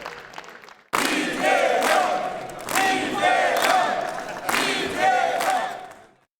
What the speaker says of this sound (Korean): 민주당 의원들은 이 대통령을 연호하며 배웅했습니다